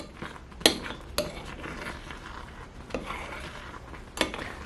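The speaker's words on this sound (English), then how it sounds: "I'm going to remove this pot from the appliance." Metal pot lifted off a Nostalgia MyMini electric skillet: a few sharp clinks and knocks of metal scattered over soft scraping and rubbing, close and moderately quiet, no talking.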